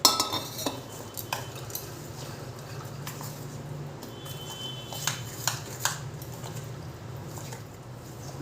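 Spice paste for a raw mango pickle being mixed with mustard oil in a bowl, with soft squelching and sharp clinks of a spoon against the dish at uneven intervals, quiet and close.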